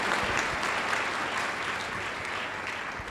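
A church congregation at a Hindi-language sermon breaks into sustained applause, a dense, even clapping that holds steady throughout and stays loud without a break.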